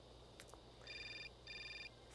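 A telephone rings in the video game Syberia, with two clear electronic trilling bursts of about half a second each, separated by a short pause over a low background hum.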